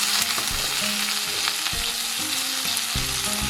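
Amaranth greens and green chillies sauté in a hot pan, giving a steady close sizzle and frying hiss broken by repeated scraping strokes of a spatula, with no talking.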